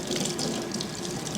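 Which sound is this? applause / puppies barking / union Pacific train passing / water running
water running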